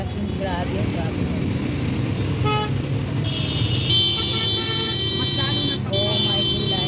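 Heavy city traffic in Karachi, Pakistan, a steady rumble of road vehicles with scattered car horns and a sustained high electronic tone, as of an alarm, with people talking over it throughout.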